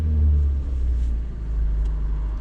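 A Honda car engine idling low on a cold start, a steady close low rumble that holds even throughout, with no talk over it.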